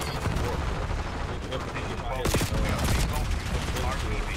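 AK-74 assault rifle fire in Call of Duty Black Ops 6 on the Nuketown map, rapid continuous bursts with sharp cracks mixed with explosions and battle noise throughout.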